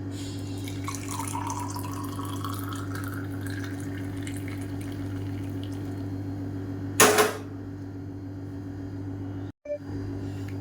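Boiled manathakkali leaf water strained in a kitchen, a steady trickle and pour of liquid over a constant low appliance hum, with a sharp clatter partway through.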